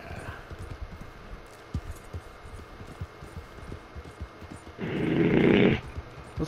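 Horse hooves clip-clop in a Red Dead–style western video game near Saint Denis, a steady run of soft, close thuds alone with no talk, ending in a louder burst of game noise.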